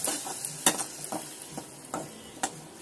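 Masala spice paste frying in a pan with small splashes of water for fish balls, a bright steady sizzle broken by repeated clinks and scrapes of a spoon stirring against the pan, close and fairly loud.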